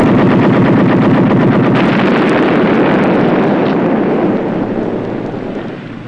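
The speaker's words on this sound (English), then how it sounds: "Floating mine. We're going to explode it." Ship's guns fire at a floating mine at sea in a loud, rapid, continuous barrage of shots, with wind rumble underneath, then it tails off slightly at the end.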